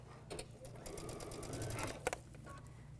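A sewing machine stitches quilt squares for a flower table topper in a steady, continuous run for about three seconds, close and moderately loud, with a few brief clicks near the end and no talk.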